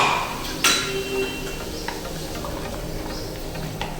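Spinach dhokla batter, thinned with spinach water and a packet of Eno, is stirred in a bowl, giving a sharp spoon clink near the start, then soft scraping and faint taps.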